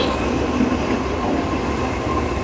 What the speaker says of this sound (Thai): รถไฟมาแล้วนะครับ